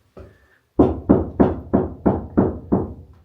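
Knuckles knock on a bare car body panel that has no Kilmat sound deadening, during rust and sound-deadening work. One light tap comes first, then seven loud, evenly spaced knocks that ring slightly hollow and tinny, close by.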